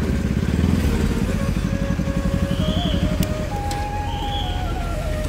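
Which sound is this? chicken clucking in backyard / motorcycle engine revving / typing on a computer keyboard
motorcycle engine revving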